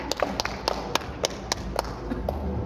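At an exhibition opening in a hotel in Makassar, a few people clap in a slow, evenly spaced rhythm, sharp and fairly close over a quiet room murmur.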